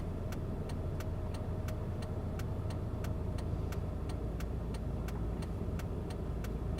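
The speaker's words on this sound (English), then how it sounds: "Traffic is definitely here." Steady road traffic hum with low engine rumble on a semi-truck route, constant and fairly loud, with a faint regular ticking like a turn signal running through it.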